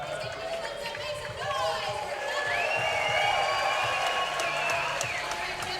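Spectators at the Parkour World Championships 2023 men's skill semi-final cheer and shout continuously, with rising whoops and sustained yells over a dense crowd roar, while a commentator talks over them.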